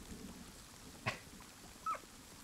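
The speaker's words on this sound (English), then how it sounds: "I hear a dog." A dog in Kingdom Two Crowns gives two short, faint yips about a second apart against a quiet background, with no talking.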